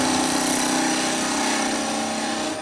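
A skew chisel takes a planing cut along a spinning workpiece on a wood lathe, heard as a steady, loud whirring hum of the lathe with a continuous smooth shaving hiss throughout.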